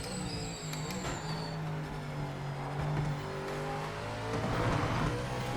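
A GT4 race car engine drones steadily in Project Motor Racing, holding a low hum with rising and falling revs as it drives, fairly quiet with no talk.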